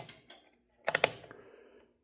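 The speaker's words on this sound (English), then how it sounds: "You can hear it clicking around." A NeoTec NT-500 arcade monitor clicks while failing to sync to 1024x768 during a Big Buck Hunter 2 repair, giving a few faint ticks and then a louder cluster of three sharp clicks that trail off.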